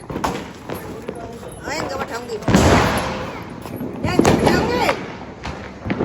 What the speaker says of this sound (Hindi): और पूरे पटाखे छुट रहे सब जगह।